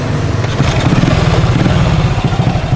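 Honda Supra motorcycle carrying passengers pulling away, a loud close engine chugging steadily with a rough, throbbing exhaust note throughout.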